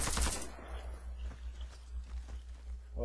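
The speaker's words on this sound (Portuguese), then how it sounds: "aí esses 5 tiros vão reto" Rapid automatic rifle fire in the shooter game Warface, one short dense burst of controlled shots with recoil held down, loud and close, then quieter rattling tail.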